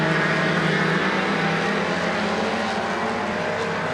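Mustang race car engines at full throttle on a short oval track, a dense, continuous roar heard from close range with no breaks and no voices.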